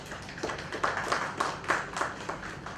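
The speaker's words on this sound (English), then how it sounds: "give a big round of applause for yourselves" Scattered clapping from a university room audience applauding themselves at a professors of practice curtain raiser, a loose patter of hands rising and falling over a few seconds, moderately near.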